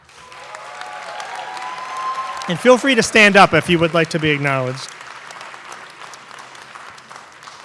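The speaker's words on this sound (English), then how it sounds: "can we get a loud round of applause for all of the students who are the first in their families to attend and graduate college" An audience at a Middle Eastern and North African student celebration breaks into loud clapping and cheers for first-generation college graduates, following a spoken announcement and fading back under room noise.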